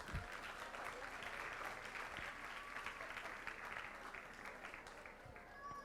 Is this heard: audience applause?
yes